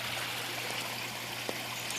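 A backyard pond waterfall on a 7,500-gallon gravel-built pond streams and trickles continuously at a moderate, steady level, with no talk.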